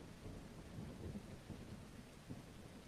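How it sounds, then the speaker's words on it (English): Rain falls in the video game DayZ, a faint steady wash of rainfall with low rumbling, continuous and distant-sounding. "It will dry as well when the rain stops"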